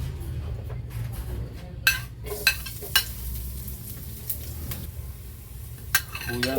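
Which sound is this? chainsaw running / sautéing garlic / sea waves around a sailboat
sautéing garlic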